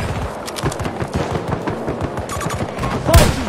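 Rapid bursts of gunfire in Battlefield 2042 on PS5, dense repeated shots rattling throughout with a louder, closer blast near the end, forming a continuous battle din.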